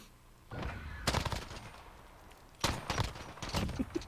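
Video game gunfire comes as two loud, close bursts of rapid shots separated by quieter gaps, with no clear speech over them.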